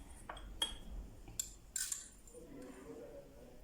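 A spoon stirs dried carrots covered in oil, giving a few faint metallic clinks and scrapes against the container, quiet and sparse, with no talking.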